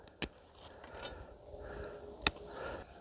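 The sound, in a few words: pruning shears cutting tree branches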